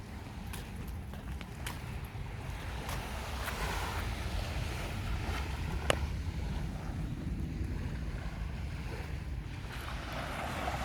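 Soft surf washing in at Glenelg Beach near Adelaide, South Australia, heard as a low steady rumble with wind buffeting the microphone and a few faint clicks and knocks nearby.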